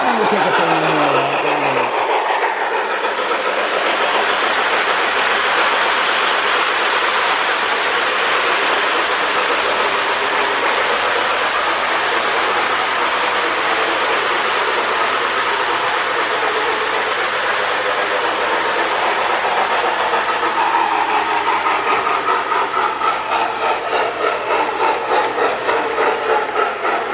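A Lionel 675 postwar model train locomotive with a rebuilt smoke unit runs around its track in a steady, continuous whirring rumble with faint rail clatter, staying close and even.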